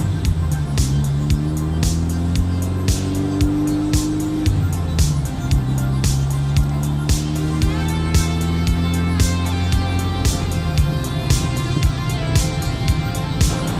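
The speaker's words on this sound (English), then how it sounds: "I just listen to the engine, listen to the exhaust note." A 1988 BMW E30 M3 engine and exhaust note while driving, loud and steady with rising and falling revs through gear changes and sharp repeated ticks over the drone, and no talk over it.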